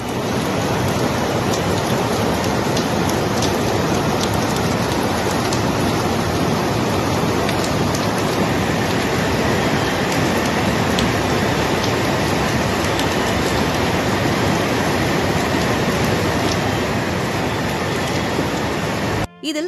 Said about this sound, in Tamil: கடந்த 3 நாட்களாகவே கனமழை பெய்து வருகிறது.